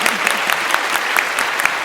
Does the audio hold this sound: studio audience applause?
yes